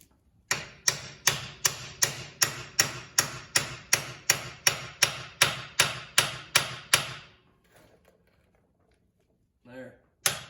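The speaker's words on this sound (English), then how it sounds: "So here we're just going to take the same socket. We got plenty of depth, and we're going to tap it down." A hammer strikes a deep socket to tap down a Ford ball joint, with about fifteen sharp metallic blows in an even rhythm, then a pause and one faint knock at the end.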